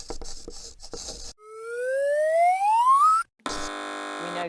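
On a British TV comedy news quiz, a contestant's buzzer sounds: first a rising, whooping electronic tone, then after a short gap a harsh, flat buzz that cuts off sharply.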